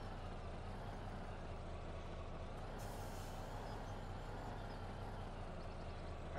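A heavy haul truck in Farming Simulator 17 rolls out with a solid load on its trailer, a steady low engine drone with a brief air-brake hiss partway through.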